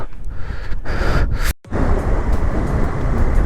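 Strong, steady wind buffets the microphone on an open high mountain road to Umling La, a continuous roaring rush broken by one brief dropout partway through.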